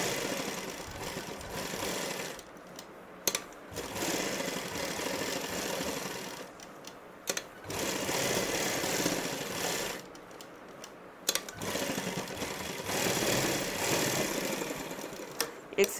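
A sewing machine stitches cut work on a salwar hem in several separate bursts with short pauses between them as the fabric is turned around a circle, close and clear.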